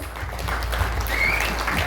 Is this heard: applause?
yes